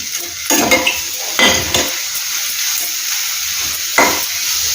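Boiled carrot pieces with coconut are tossed in a frying pan for a carrot coconut curry: a few bursts of scraping and clattering stirring over a continuous soft sizzle, close by.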